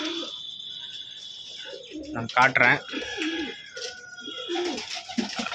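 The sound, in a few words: pigeons cooing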